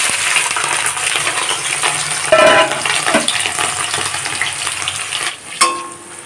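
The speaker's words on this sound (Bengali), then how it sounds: "কুঁচো চিংড়িগুলোকে ভেজে নেব" Small shrimp fry in mustard oil in a pan over a low gas flame, a steady loud crackling sizzle with a couple of sharp metallic clinks from the utensil partway through.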